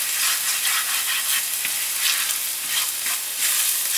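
Food seasoned with pepper, garlic salt and Italian seasoning is stirred in a frying pan, a dense continuous sizzle with light rhythmic scraping strokes, close and with no voices.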